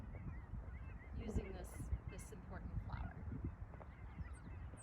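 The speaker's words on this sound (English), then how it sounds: "you can hear the ducks and the birds in the background" Ducks and birds honk and call in the background, scattered through the scene, while a person talks softly over them outdoors in a wetland.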